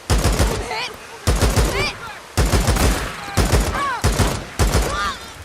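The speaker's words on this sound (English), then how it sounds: "I'm going to switch to my assault rifle and just go nuts here." Assault rifle fire from the open-world video game Days Gone, in six loud sustained automatic bursts with short gaps between them, each burst trailed by ringing shell-casing or ricochet tones.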